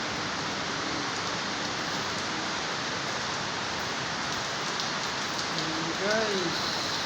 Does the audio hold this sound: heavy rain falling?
yes